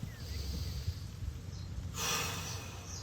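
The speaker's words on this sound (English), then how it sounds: "we're gonna work 5 big breaths" Deep diaphragmatic breaths, a slow, quiet sequence of airy inhales and exhales close to the microphone, with a longer, fuller exhale toward the end.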